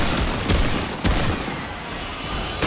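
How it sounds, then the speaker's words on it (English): Friendly gunfire in the video game Remnant 2, with bursts of rapid shots at about 0.5 s and 1.0 s over steady noisy background, and another burst near the end. "Friendly fire, just friendly fire."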